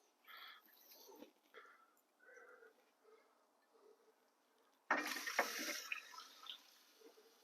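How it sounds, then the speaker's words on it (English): Beer poured into the liquid tray of a heated smoker gives a sudden splashing pour midway through, continuing steadily after a mostly quiet stretch of faint clicks and knocks. "We're going to run beer in our liquid tray today"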